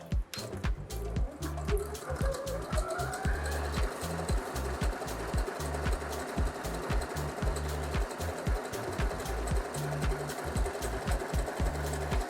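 A Usha Janome Sew Magic sewing machine stitches in a fast, even mechanical rattle, running close and continuously with a steady clatter throughout, no talking.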